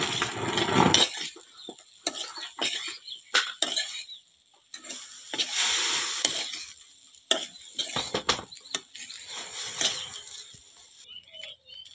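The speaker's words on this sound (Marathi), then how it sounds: "हे बघा याला मी तर फोडणीचे भात टाकणार" Tempered rice is stirred in a hot pan, with steady scraping of the spoon against metal, soft sizzling, and occasional clinks that come and go over several seconds.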